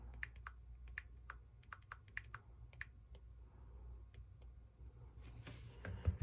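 Sparse, quiet keystrokes on a Dell 7370 laptop keyboard, individual clicks tapped at an uneven pace with short pauses, ending in a slightly louder final press in a quiet room.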